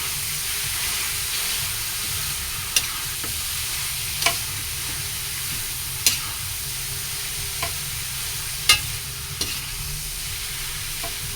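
Menudillo fries in a pan under a steady loud hiss, and now and then a spoon clicks or scrapes faintly as it is stirred.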